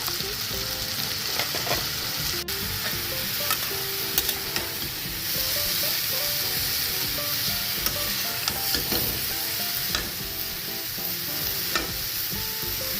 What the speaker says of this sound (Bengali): এবার আমি জুকিনিগুলো অ্যাড করব।